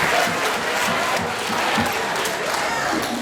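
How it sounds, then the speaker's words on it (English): A crowd at a middle school band's spring concert applauds loudly and continuously, with cheers and whoops mixed into the dense clapping throughout. "Can we just give them a huge round of applause?"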